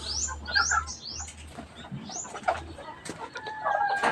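Young chicks peeping in a rural yard, a series of high, rising chirps close by, mixed with fainter fowl calls and other birdsong over a low background rumble.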